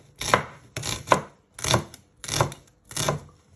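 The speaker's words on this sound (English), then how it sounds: "Now you just want to finely slice them." A knife finely slices shallots on a cutting board, six crisp, evenly spaced chops close up and fairly quiet.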